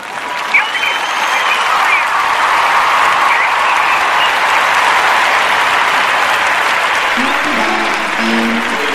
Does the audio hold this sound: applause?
yes